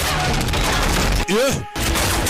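Gunfire in a war action film: a loud, dense barrage of rapid shots fills the clip, broken by a brief rising, whooshing sweep and a short drop before the firing resumes.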